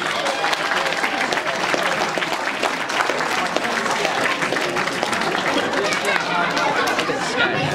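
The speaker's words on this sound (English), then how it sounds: "Ladies and gentlemen, for a six-year-old girl, give her a round of applause." An audience at a football club award evening hypnotist show applauds a six-year-old girl with continuous clapping mixed with crowd chatter throughout.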